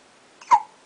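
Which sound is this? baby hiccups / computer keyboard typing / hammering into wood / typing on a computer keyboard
baby hiccups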